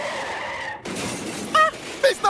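A car crash staged in a comedy sketch: a sudden sharp impact, then bursts of shattering glass and skidding noise, loud and close, with a voice crying out.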